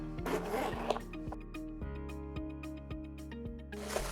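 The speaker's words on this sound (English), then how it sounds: "At the top of the bag, we can open it up. This bag does have a single zipper." A zipper on a Lululemon Everywhere Belt Bag drawn open in several quick ripping pulls, close up, over a held musical tone.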